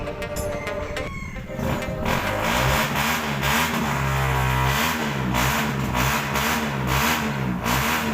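A loud motorcycle engine revs nearby, its throttle rising and falling in uneven bursts over a rough idle throughout.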